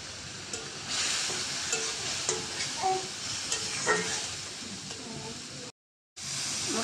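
Spice paste with shrimp, seasoned with coriander powder and salt, sizzling and being stirred in a pan, a steady close hiss with repeated scraping strokes, then a brief cut to silence before the frying resumes.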